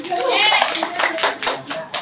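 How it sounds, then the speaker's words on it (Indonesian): Classroom applause from students after a classmate's planets presentation during a micro-teaching session, a short burst of clapping about two seconds long with voices mixed in. "Oke, tepuk tangan buat Tupus."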